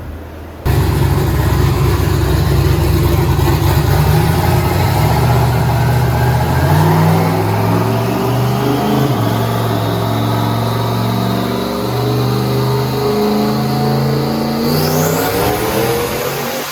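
A turbocharged LS-swapped Mustang pulls hard on a dyno, its loud engine rising steadily through the revs in one long continuous run, with a turbo whine climbing alongside and cutting off sharply near the end.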